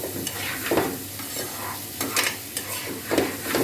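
Spice paste being stir-fried for a Bengali fish curry with potato and cauliflower, a short stretch of close sizzling broken by several scraping strokes of a spatula through the pan.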